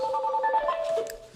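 Main telephone ringing at a veterinary clinic, a brief electronic ring of warbling repeated tones heard near and clear, then fading as the ring ends.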